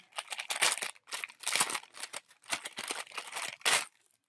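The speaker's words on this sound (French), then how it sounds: "Je vais la déballer" Round-nose jewelry pliers are unwrapped from plastic packaging, with close crinkling and rustling in steady bursts and brief gaps, loud and near with no talk over it.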